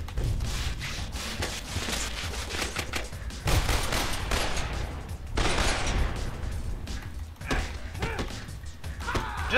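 Irregular volleys of gunfire from an enemy in the Spider-Man 3 video game, mixed with clanks, impacts and rumbling game effects, loud and dense throughout with occasional sharper bursts.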